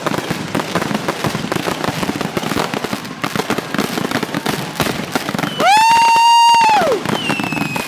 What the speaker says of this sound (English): Yeah, that's one of my homemade sound effects.